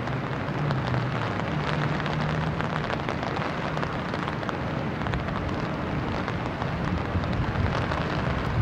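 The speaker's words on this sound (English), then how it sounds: "And it's beginning to rain again here" Rain falls steadily during the 1996 Oregon flood near Salem, a dense, even hiss that holds the same loudness throughout with no break and no voices.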